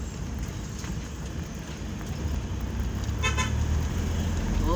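Car horn honking on a winding mountain road (Bitukang Manok) as a vehicle descends, a sustained tone rising over steady road and engine rumble near the end.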